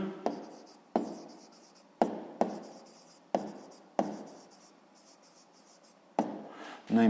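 Pen or pencil writing out a sixth-grade maths exercise on paper: a series of short scratchy strokes in bursts, close and clear, with brief pauses between words and no voice.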